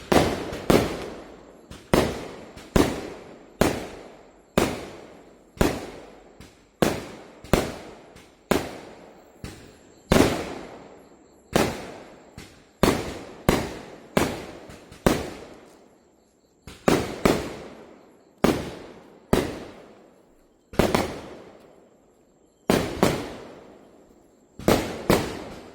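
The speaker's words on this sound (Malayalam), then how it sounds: "നേരം വെളുക്കുന്ന വരെ പടക്കം പൊട്ടിന്" Neighbourhood firecrackers and fireworks bursting outside, a long steady series of sharp loud bangs, each followed by a short decaying echo, roughly one or two per second, with no talk.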